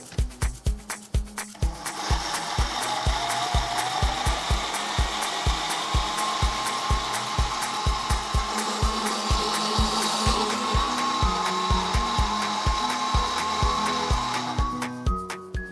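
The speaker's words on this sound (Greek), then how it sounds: "έκλεισα το μίξερ για να με ακούτε καλύτερα, το blender συγγνώμη" Motorized blender whirs steadily for several seconds, grinding taramosalata ingredients with a rhythmic pulsing chop, then winds down at the end.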